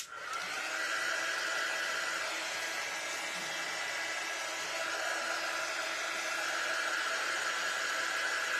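A hair dryer blows steadily on a freshly transferred vinyl design, a continuous loud, close airflow roar with a high whine that holds unbroken throughout, alone with no talking.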